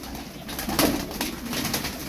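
A tumbler pigeon coos softly close by in a short, steady murmur over a constant background hum.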